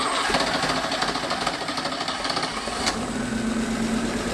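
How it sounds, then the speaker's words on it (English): An Audi-engined buggy running at a slightly raised idle just after a choke start, giving a steady, close, continuous engine rumble with a faint mechanical whine and no voices. "We increased the idle slightly just to keep it running."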